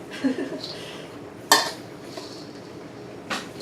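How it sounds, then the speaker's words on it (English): Granola dry ingredients with dried fruit and nuts get stirred in a bowl, a quiet shuffle punctuated by a few clinks of a utensil against the dish, one sharp knock standing out. "now we're going to stir up all our dry ingredients really well"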